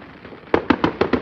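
New Year fireworks burst in a quick run of five sharp, loud pops about a beat apart, following a faint rumble, with no talking.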